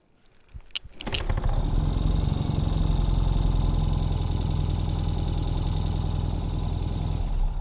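A fuel-injected 2021 Ural Gear Up motorcycle engine is kicked and fires after a second, then settles into a loud, steady idle nearby with no voices.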